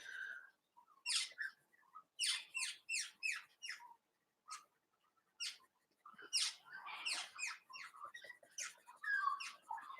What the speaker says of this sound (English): there are parrots out there that you can hear at the moment